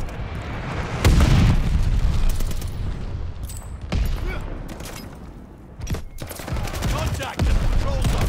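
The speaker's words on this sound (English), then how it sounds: "Heads up, enemy glide bomb coming in hot." An enemy glide bomb exploding in Call of Duty: Vanguard on PS5, heavy booming blasts with gunfire rumbling around them, several loud impacts spread across a noisy battle soundscape.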